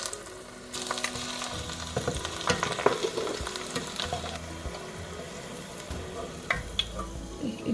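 Three cloves of crushed garlic fry in oil for a potato mixture snack, giving a steady crackling sizzle with stirring scrapes and occasional louder clinks of a utensil against the pan.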